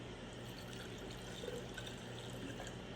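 Pomegranate juice poured steadily into a container, a continuous close liquid splashing and trickling sound with no pauses and no talk.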